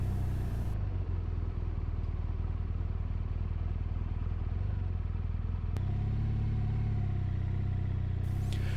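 A BMW R1200 motorcycle cruises slowly through Petit Jean State Park in Arkansas, its engine holding a steady, continuous drone with a sharp click near the middle, with no talk.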